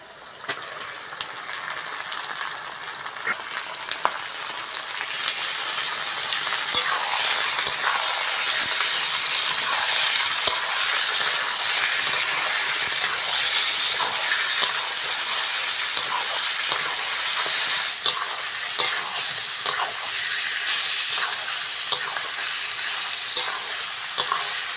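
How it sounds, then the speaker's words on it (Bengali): Chicken and onion frying together in a pan for Bengali chicken curry, a loud continuous sizzle and hiss that swells and holds steady, broken by frequent clicks and scrapes of a stirring spoon. "পেঁয়াজের সঙ্গে চিকেনটা ভালো করে ভেজে নিয়েছি"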